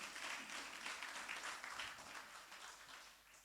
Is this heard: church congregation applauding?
yes